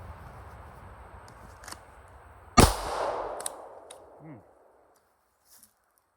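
A Glock 19 pistol fires a single loud, close shot, a sharp crack followed by a short ringing tail and a few faint clicks as the slide cycles, with quiet background noise before it.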